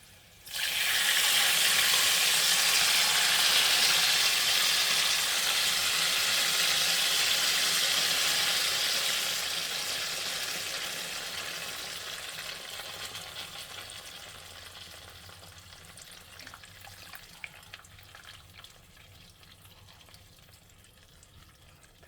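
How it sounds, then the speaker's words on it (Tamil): A loud, steady hiss of tamarind extract poured into hot oil, sizzling strongly at first and gradually quieting over about twenty seconds. "புளிக்கரைசலை ஊற்ற போகிறேன்"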